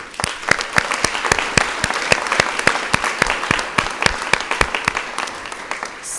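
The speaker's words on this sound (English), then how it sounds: "how about another round of applause for all of our award winners?" An awards-forum audience claps for the award winners, a dense, steady wash of many hands with sharp individual claps standing out near the front, continuing throughout without talk.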